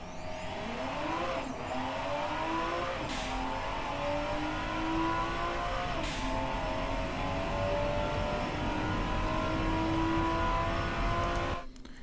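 A 1984 Athena CS322 Rallye rally car in Automation laps a test track with a loud, close engine climbing in pitch through several gear changes, each marked by a brief dip before revving up again, with no talk.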